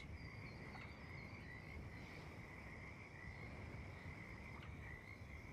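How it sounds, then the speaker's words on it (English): Frog croaking plays as a sound effect during a tabletop role-playing session, a steady looping chorus of croaks with a high trilling tone, faint and unbroken, with no talk over it. "you hear these weird noises that do sound like frogs"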